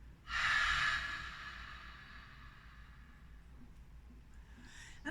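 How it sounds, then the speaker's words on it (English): A long, open-mouthed haa-style exhale as if fogging glasses during a relaxing breathing exercise, starting strong and breathy and slowly fading over a few seconds, close and alone, followed by a short inhale. "put your hand in front of your mouth and pretend your hand is your glasses or the windscreen, and just make that sound"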